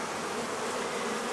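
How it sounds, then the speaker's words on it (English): Dense honey bee buzzing from a crowded hive refilled after a swarm, a steady close-up hum with no break. "So it looks like the bees are all back in here."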